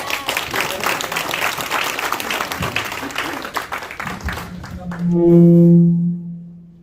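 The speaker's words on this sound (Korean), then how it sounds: "큰 박수 부탁드립니다." Audience applause at a Korean Christian comic-evangelism charity fundraising night, a dense steady clapping from a crowd lasting several seconds before music swells in at the end.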